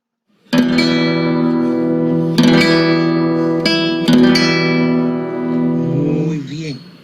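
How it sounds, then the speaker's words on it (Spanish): A guitar rings out alone with several strong strummed chords, each struck sharply and left to sustain and fade before the next, ending in a soft decaying tail. "el timbre de la guitarra"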